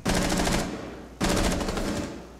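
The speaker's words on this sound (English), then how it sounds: "They're shooting at me from across the way." Two sharp bursts of automatic gunfire in Rainbow Six Siege, each lasting about half a second and separated by a short pause, loud and close.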